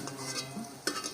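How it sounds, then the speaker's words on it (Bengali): A small batch of cauliflower pieces fries in oil with a soft, close bubbling sizzle and a brief clatter near the end, fairly quiet. "অল্প অল্প করে ভাজবো"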